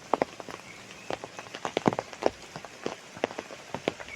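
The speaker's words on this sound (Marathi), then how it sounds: "आज थोडा पाऊस पण आहे" Light rain falls on a rice field being sown, scattered drops tapping irregularly on nearby surfaces over a faint steady patter, with no voices.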